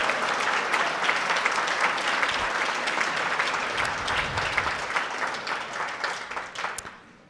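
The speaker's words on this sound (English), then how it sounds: "Please join me in giving a warm round of applause for all of our sponsors." An audience applauds sponsors at the Hudson Chamber of Commerce & Tourism Bureau annual celebration: sustained, dense clapping from a large crowd that holds steady for several seconds, then thins and fades out at the end.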